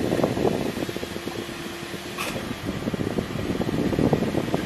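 A car's air conditioning fan blows steadily inside the cabin of a taxi modified to automatic, with a digital climate control panel. The fan makes a loud, continuous whooshing hum with no talking.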